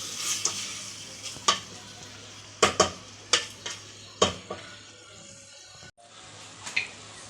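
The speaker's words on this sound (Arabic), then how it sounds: "غادي نخلط هادشي كله يتشحر مزيان" Small diced chicken breast pieces sauté in a hot pan for a Chinese-style seafood and chicken soup, a steady sizzle broken by repeated sharp scrapes and knocks of a stirring utensil, close and clear, no voices.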